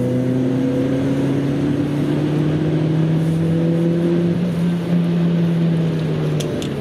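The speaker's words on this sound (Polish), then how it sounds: "i praca silnika jest dosyć głośna." Volvo V40 T4 engine humming steadily while driving, a loud close drone with tones slowly rising and falling, plus road and suspension noise, with no voices.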